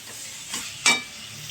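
Pointed gourd is tossed in spice paste in a pan, giving a couple of brief scraping stirs with a sharper clink near the end over a faint background sizzle.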